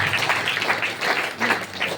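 Enthusiastic applause from an audience at a gathering, a dense, sustained patter of clapping at moderate level that rolls on without pause.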